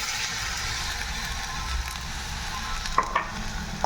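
A pan sizzles steadily with a little khar, an alkaline ingredient, added for an Assamese recipe; the low, even hiss runs throughout, with a couple of sharp utensil taps near the end.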